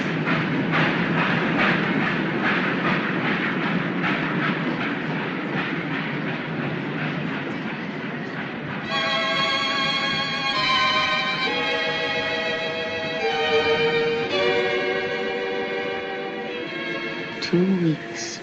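A train departs from a station, its rhythmic clatter and hiss giving way to a whistle and tonal chords, with a brief squeal near the end.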